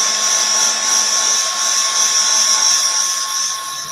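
A hair dryer blows steadily on a craft piece for a guest room drinks tray, a continuous close, loud whooshing hum with a fixed motor whine that holds level throughout, with no talking.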